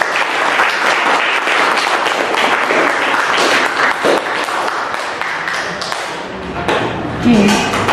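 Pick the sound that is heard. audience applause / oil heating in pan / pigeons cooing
audience applause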